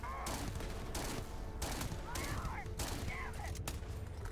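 Pistol fire in the video game Starfield: a quick run of sharp, loud shots in irregular succession, each burst cracking out over a low rumbling game background.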